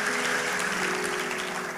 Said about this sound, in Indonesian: Kasih tepuk tangan buat Allah kita.